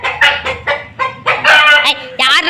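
A rooster crows and clucks in a string of loud, close calls, several short bursts and a longer crow, with no talk over them.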